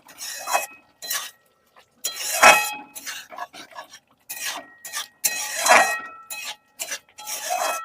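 Paneer curry being mixed after half a teaspoon of garam masala goes in: irregular scraping and rubbing strokes of a spoon in the pot, coming in short bursts with pauses, close and moderately loud.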